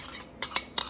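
A utensil stirring a grainy gelatin jelly mixture for cherry and apple jellies, three quick clinks against the dish over a faint background hiss, close and fairly quiet.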